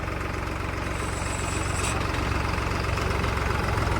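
A tractor engine runs steadily at idle during a mechanic's trial at a dealership, a continuous low rumble with a faint knock, close and unbroken throughout with no talking.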